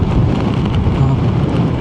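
Strong wind roars and buffets the microphone in a loud, continuous low rush.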